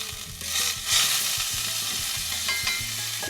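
Food sizzles steadily in a pan on a camper stove inside a Casita travel trailer, a continuous close frying hiss with small stirring clatters and no voices.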